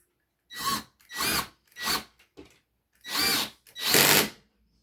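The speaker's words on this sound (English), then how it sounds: "you can use the drill for this part" A power drill whirs in six short bursts separated by brief silences while installing a ceiling fan, close and fairly loud, with the motor pitch changing during each run.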